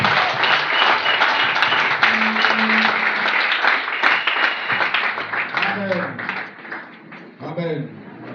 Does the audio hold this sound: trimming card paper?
no